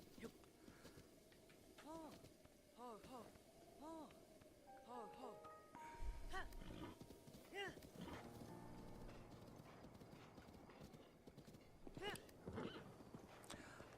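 White horse in the video game Zelda Breath of the Wild, repeated clip-clop trotting hooves and several whinnying neighs over game ambience, with faint talk at times.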